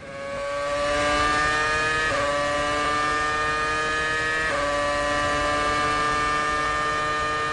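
A Formula 1 car on a pole position lap at the 2008 Spanish Grand Prix screams at high revs, its whining engine note sweeping upward through gears with two sharp drops at upshifts, loud and sustained throughout.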